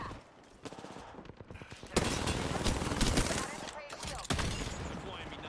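Gunfire rattles through a battle-royale shooter, with scattered single shots first and then bursts of rapid automatic fire, sharp cracks punctuating a busy mix under faint talk.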